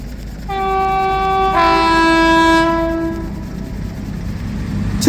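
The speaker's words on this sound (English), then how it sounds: "That train horn was long." A Cross Country passenger train passes a level crossing at Liss Common, sounding one long, loud two-tone horn for several seconds over steady rail rumble and wind noise.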